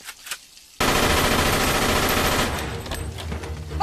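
Loud, sustained burst of automatic gunfire rattles through a film scene after a brief quiet, continuing steadily for about two seconds before easing into a lower, scattered din.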